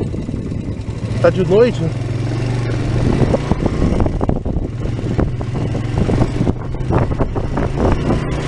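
A Suzuki Yes motorcycle engine hums steadily throughout a night ride, with wind buffeting a helmet-mounted microphone; someone talks over it near the start.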